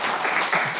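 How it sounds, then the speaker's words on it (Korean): Brief burst of congregation clapping in a Korean church service, a dense patter of many hands heard close for under a second. "환영의 박수, 감사의 박수 하겠습니다."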